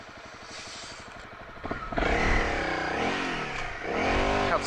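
Honda CRF250 Rally motorcycle engine idling, then revving hard as the bike takes off, with rising and falling engine pitch through the gears, loud and close.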